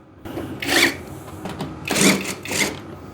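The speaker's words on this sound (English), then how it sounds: "all these screws can be taken out with a 1/4-inch nut driver" Screws come out of the cover of an Arctic Cat Kitty Cat snowmobile with a 1/4-inch nut driver, heard as three short, close mechanical whirring bursts with pauses between them and no talking.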